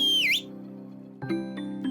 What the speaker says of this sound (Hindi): और फिर उस जेलीफिश ने जोर से सीटी बजाई।